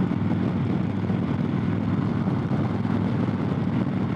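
Harley-Davidson Softail Springer motorcycle being ridden, its engine giving a steady, loud, continuous low rumble with constant road and wind noise and no break throughout.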